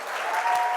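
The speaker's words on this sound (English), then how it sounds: "A huge round of applause for them to make it out tonight." Brief burst of audience applause at a charity gala evening honoring families living with ALS, dense, steady clapping from a room full of people, fairly loud and lasting under a second.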